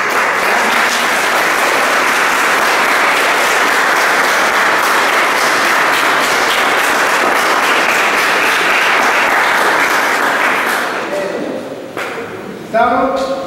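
Sustained applause from a church congregation honouring the men, dense and loud for about eleven seconds before it fades, after which a voice begins speaking.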